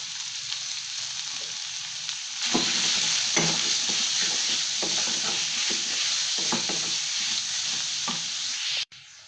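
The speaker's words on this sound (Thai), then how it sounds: "พอกระเทียมหอมดีก็ใส่หมูสับลงไปค่ะ" Minced pork frying with garlic in a hot pan, a loud continuous sizzle layered with repeated rhythmic spatula scrapes throughout, cutting off abruptly at the end.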